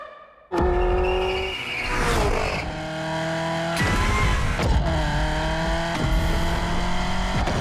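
Genty Akylone hypercar in The Crew Motorfest, its engine revving loud and close with sharp gear-change surges and tire squeal, running continuously after a brief quiet start.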